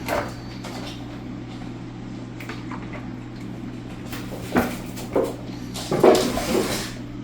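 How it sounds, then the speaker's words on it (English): Background commotion of an excited, hyper cat: scattered thumps, scrabbling and rattling bursts over a steady low hum, growing busier toward the end. "the commotion in the background, that's my cat getting really hyper"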